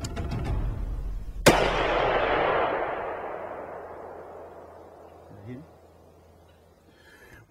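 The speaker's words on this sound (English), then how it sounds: "I'm gonna take a shot" A single sharp rifle crack rings out during a deer hunt in Alabama woods, loud and close, followed by a long rolling echo that fades over several seconds across the field, with faint talk before the shot.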